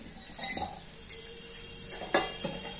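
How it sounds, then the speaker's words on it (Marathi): Mustard seeds go into a pan for poha, with a few light clinks and scrapes of metal and a faint sizzle under a quiet background hum. "बघा, आता मी टाकते थोडीशी मोहरी"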